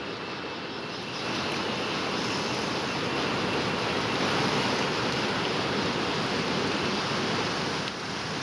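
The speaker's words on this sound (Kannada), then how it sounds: "ಭರಪೂರ ನೀರು ಹರಿತಾ ಇದೆ ತುಂಗಾ ನದಿಯಲ್ಲಿ" The flooded Tunga river rushes after heavy rain in Karnataka, a dense, continuous roar of flowing water that stays loud and steady throughout, with no talking.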